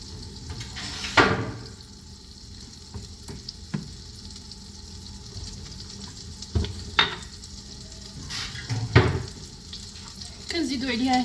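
A large spoonful of butter melts and sizzles in a pan for Moroccan kebab maghdour, a soft, steady frying hiss broken by a few louder clicks and knocks of utensils, close by with no talk.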